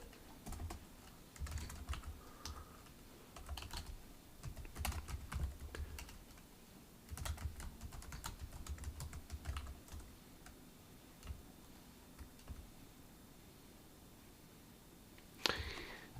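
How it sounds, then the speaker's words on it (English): Someone types on a computer keyboard during a live C++ coding session, with close, quiet clusters of key clicks in bursts separated by short pauses and a louder clack near the end. "I'm typing"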